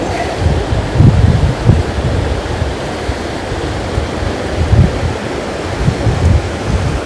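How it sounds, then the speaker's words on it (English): Floodwater in the Monroe area rushes steadily underfoot, a continuous loud roar of flowing water with low rumbling surges and some wind buffeting on the microphone throughout. "all this water flowing underneath my feet"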